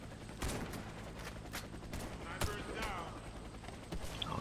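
A ZX84 machine gun firing in the video game Warface, with short bursts and single shots cracking over a busy game soundscape and faint voice in the background.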